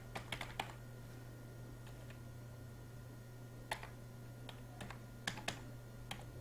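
Computer keyboard typing during Excel data entry: quiet, scattered keystroke clicks in short irregular bursts over a steady low electrical hum, with pauses between clusters.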